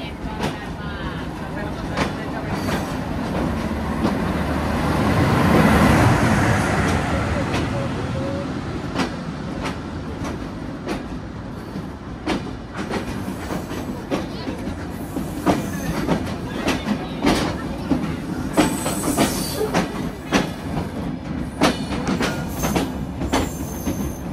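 The Benapole Express rolls through a railway station on line 2, wheels clattering and squealing on the rails in a steady rumble that swells and then eases, with rhythmic clicks and some talk in the background.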